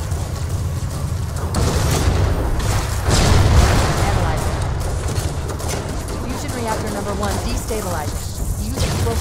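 Continuous rumbling explosions and blasts against fusion reactors aboard a ship's engine room in Halo: Combat Evolved, dense and loud throughout, with a heavier burst a few seconds in and game voices underneath.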